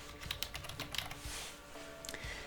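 Quick keystrokes on a computer keyboard typing a word, a close, fairly quiet run of light clicks in an irregular burst with a brief pause partway.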